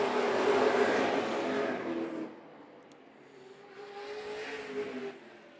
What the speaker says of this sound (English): closing in on Devin Snell in the 10 car as they exit turn number 4.